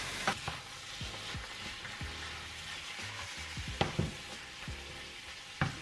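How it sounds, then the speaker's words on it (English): A vegan Thai cashew dish with a sauce resembling oyster sauce is stirred quickly in a frying pan, with a constant sizzle and several scraping strokes of a utensil against the pan. "So just a quick stir."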